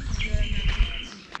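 Birds chirp and tweet briefly in a Turkish village in Ödemiş, İzmir, with a clear song over a low rumble of outdoor background noise.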